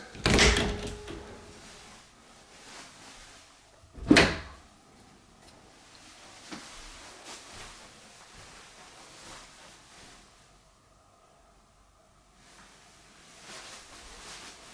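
Interior doors in a newly built Winter Garden home are opened and closed, two sharp knocks and thuds several seconds apart followed by quieter room sounds.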